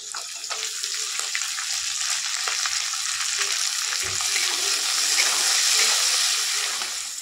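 Carrots frying in a pan as a first step for a pasta dish, producing a continuous close hiss and sizzle with light scraping from stirring, steady and unaccompanied by speech.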